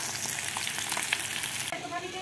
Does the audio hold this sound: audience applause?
no